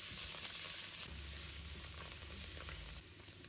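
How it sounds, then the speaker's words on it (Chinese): Pickled mustard greens, ginger and garlic stir-fried in a wok make a steady, quiet sizzle with faint stirring scrapes and no voices. "再把酸菜丝放入锅中，蒜末、蒜白也加进来，"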